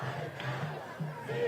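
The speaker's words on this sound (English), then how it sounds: "people are chanting, they're continuing to chant ceasefire now" A protest crowd at a national march on Washington chants "ceasefire now" in a sustained, rhythmic collective roar, with voices carrying steadily throughout at a moderate distance.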